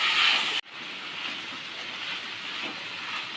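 Onion pieces hit hot oil already seasoned with mustard seeds, cumin, garlic and curry leaves for an egg curry, giving a sharp burst then a steady, loud broadband sizzle that settles into a continuous hiss.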